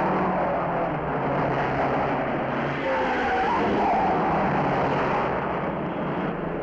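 Race cars at the Indianapolis 500 roaring back up to speed after a slowed period, a dense, steady engine roar with passing whines and tire noise filling the whole stretch.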